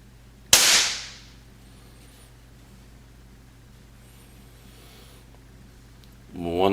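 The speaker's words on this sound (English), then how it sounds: "whenever you're getting ready to fire the gun" An SPA S400 .177 pellet pistol fires a single sharp, loud crack close by, and a hissing tail fades over about half a second. Near silence follows, then a rising rustle at the end.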